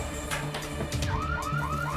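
An alarm goes off at Fort Boyard, wailing in repeated rising sweeps, each a second or less, over a steady low hum and background noise.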